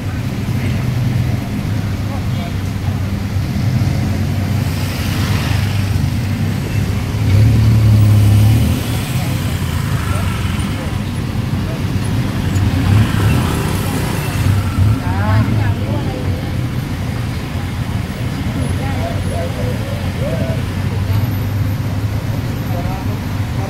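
Motor traffic rolls along a busy Bangkok street near Nana Plaza on Sukhumvit, a constant low engine rumble with vehicles droning past one after another, while a voice talks intermittently over the noise.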